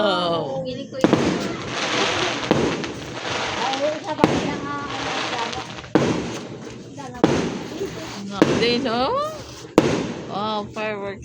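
Repeated firework blasts crack at a barangay fiesta in Aguisan, roughly every one to two seconds, with people exclaiming and chatting loudly throughout.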